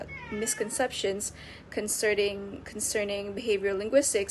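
A house cat meows several times, close and fairly loud, mixed in with a person talking steadily in an academic, lecture-like tone.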